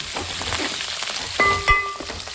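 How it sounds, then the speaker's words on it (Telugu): Onions and green chillies frying gently on a low flame in a pan, a steady soft sizzle with a couple of light clinks, close and alone without talk. "ఉల్లిపాయలు, పచ్చిమిరకాయలు అన్నీ చక్కగా సన్న మంటలో వేగుతున్నాయి కదండి"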